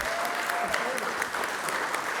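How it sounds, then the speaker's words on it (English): Crowd applause at an outdoor Irish flag-raising at Paterson City Hall for Governor Phil Murphy, steady and dense throughout with faint voices mixed in. "One more round of applause for Governor Phil Murphy, our friend and fighter."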